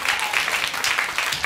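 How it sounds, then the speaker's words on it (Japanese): A crowd applauds in a dense, steady patter of clapping that stays loud throughout the brief moment. "拍手。"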